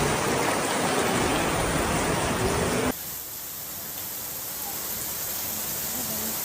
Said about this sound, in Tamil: எந்த அளவுக்கு மழை இன்டென்ஸாக அங்கே பெஞ்சிருக்கு தெரியுமா?